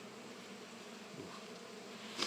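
Honeybees hum around an open hive as the box is worked on, a faint, continuous buzz with a slight rise near the end, no voices over it.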